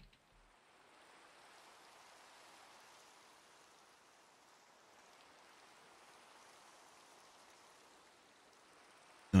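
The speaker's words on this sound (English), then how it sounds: "It's raining." Steady, soft rain hisses in Minecraft, an even wash of falling drops with no other sound over it.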